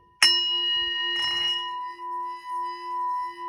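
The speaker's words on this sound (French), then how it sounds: "si vous avez la chance d'avoir un bol tibétain, vous pouvez tout simplement" A singing bowl is struck once, then rubbed, giving a bright ringing tone with layered overtones that sustains and gently pulses as it continues.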